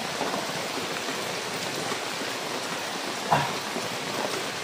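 Steady rain falls outdoors, a constant even hiss of drops hitting surfaces with one brief sharper tap partway through and no voices.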